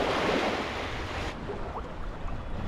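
Wind roars steadily over choppy ocean water at Bahia Honda in the Florida Keys, with waves washing and rushing close by; no voices.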